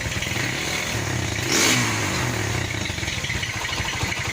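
Viar motorcycle engine revving steadily at close range, with a brief louder rise in the middle before settling back to a continuous run; no talking.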